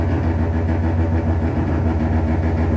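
A Mazda FC rotary engine running on a dyno with a leaner fuel tune, holding a loud, steady, close-up drone throughout.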